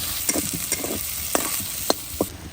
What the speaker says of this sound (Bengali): এখন আমি মাছটা ভোনা করে নিব এই তেলে কড়াই একটু তেল দিয়ে দিচ্ছি দিয়ে দিব পেঁয়াজ একটু কাঁচামরিচ